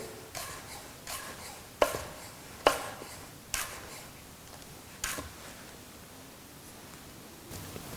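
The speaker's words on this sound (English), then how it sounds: "we've got some red pepper here. Again, we'll do that, cut it at a real bias, nice and thin" A kitchen knife slices a red pepper thinly on a bias, striking the cutting board in about eight sharp, irregular taps. The taps are close and stand alone against a quiet background.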